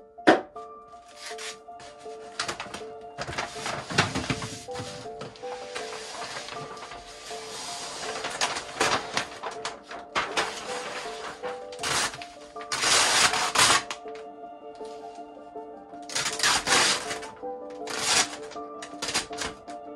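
A blade slices car vinyl wrap around a fender's wheel well. Close, dry scraping and crinkling comes in irregular bursts with rustling film throughout, loud and near, with no voices.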